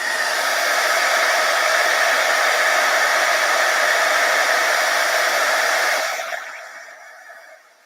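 A heat embossing tool blows a steady loud whirring rush onto embossing powder on stamped leaves for about six seconds, then fades as it is switched off.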